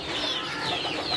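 Sentul village chickens, a native breed from Ciamis, heard on a farm with faint, scattered bird calls over a steady outdoor background; short and fairly quiet.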